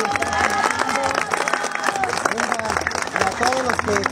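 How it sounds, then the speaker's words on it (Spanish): A crowd at an outdoor campaign visit by a municipal president candidate claps and cheers in a loud, dense, continuous mix, with lively voices talking and calling out over it. "yo le doy un aplauso aquí a nuestro amigo Wader"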